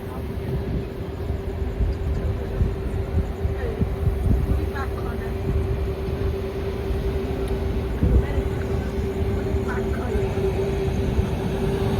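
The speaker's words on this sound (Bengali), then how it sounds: "খড়গপুর ক্রস করার পরে আমাদের ট্রেনের গতিটা দেখতে পাচ্ছ" An express train running at speed on the Kolkata–Puri line past Kharagpur, heard from inside the carriage as a steady loud rumble and roar with faint rhythmic wheel clatter throughout.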